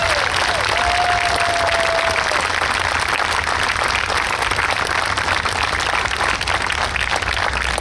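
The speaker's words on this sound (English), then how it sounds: "we think it's those guys that deserve a real round of applause this afternoon" A crowd at the New York State Fair applauds steadily after a New York State Police special operations response exhibit. The clapping is thick and continuous and stays even throughout, with faint cheering and a brief voice mixed in.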